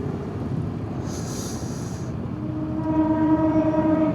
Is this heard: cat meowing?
no